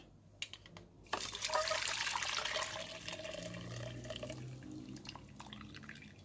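Boiled karanda fruit juice being strained, liquid dripping and trickling steadily into a container, close and continuous after a few faint taps, with no talking.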